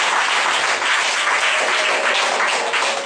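A church congregation applauds and cheers in acclaim of Jesus Christ at a child's presentation ceremony, a dense, steady wall of clapping that holds loud and even from start to finish.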